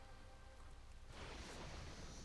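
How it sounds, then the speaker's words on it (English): Rain falling in the World of Warcraft video game, a steady soft hiss that swells noticeably louder partway through, heard alone with no talk. "it started to rain"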